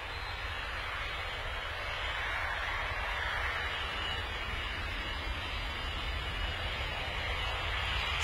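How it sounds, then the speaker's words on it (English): A Boeing 737 MAX airliner takes off from Bristol Airport on a flight to Verona, a steady, broad engine roar heard from a distance, even and sustained without voices. "That was a very relaxed takeoff for the flight to Verona"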